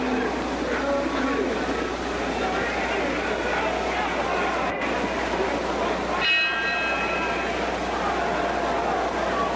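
A boxing ring bell sounds for round two at the Muhammad Ali vs Ernie Terrell fight: a single ringing bell stroke midway through, nearly buried under a steady roar of arena crowd noise.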